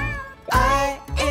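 A cartoon cat's meow in a children's farm song, two drawn-out tonal calls with a brief break between them, loud and close, heard alone with no talking.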